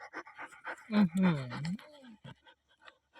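A dog pants in quick, rhythmic bursts close by while a person talks over it.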